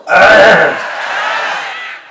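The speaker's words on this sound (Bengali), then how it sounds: "সবাই একটা কাশি দেন কথা বলার জন্য" A crowd at a religious sermon gathering coughs together in one loud burst that tapers off over about two seconds.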